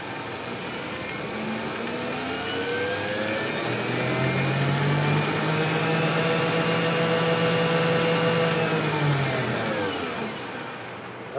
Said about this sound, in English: And rev him up to see if he's actually balanced or not.